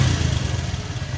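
A Honda Beat scooter runs with a steady, close-up mid-pitched putter, its small engine held at a slightly raised, lumpy rev for a brief moment with light mechanical clatter.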